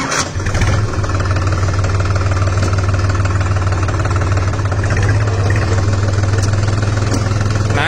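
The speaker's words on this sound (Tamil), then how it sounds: "இந்த டிராக்டர் ஸ்டார்ட் பண்ணி ஆப்ரேட் பண்ணி காமிக்கிற பாருங்க" A New Holland 3600-2 Excel 50 HP tractor engine idles steadily with a low, constant rumble, close and loud, with no change in pace.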